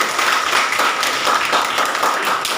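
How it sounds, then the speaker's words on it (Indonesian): Group clapping in a classroom discussion session for a presenting team: loud, close, dense hand claps from many people, steady throughout with no talk. "tepuk tangan buat kelompok"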